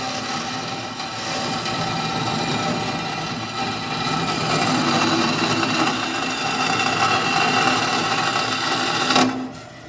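A sanding disc grinds steadily against a steel roll cage tube, a continuous loud abrasive whine that runs for several seconds before cutting off near the end, close up with no voices.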